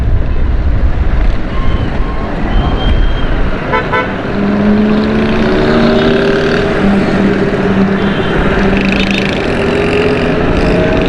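A motorcycle ridden through the busy Garden Takoni Market, its engine droning steadily while car horns toot repeatedly and wind buffets the microphone.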